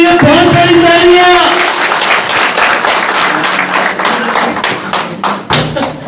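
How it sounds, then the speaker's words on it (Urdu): Loud, dense applause and clapping from an audience honoring Shina poet Abdul Khaliq Taj at a gathering, beginning under a voice and thinning into scattered close claps and thumps. "عبد الخالق تاج کے لیے بہت ساری تالیاں"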